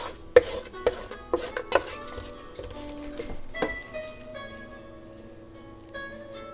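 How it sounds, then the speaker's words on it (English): Roux for chicken and sausage gumbo is stirred in a pot, with a series of sharp utensil knocks and scrapes early on that fade into quieter clinking and a soft background hiss, no talking. "When you're doing your roux, you want to make sure, guys, that you are stirring constantly."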